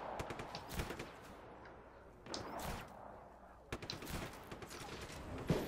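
In Just Cause 3, gunfire rips at a propane tank in several sharp, fairly distant bursts of rapid shots separated by short pauses, fairly quiet overall.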